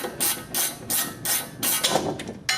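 A wrench loosens a bolt on the front suspension of a Dodge Challenger during an Eibach suspension install, giving a run of about eight sharp ratcheting bursts in a steady, close, fairly loud rhythm with no talk.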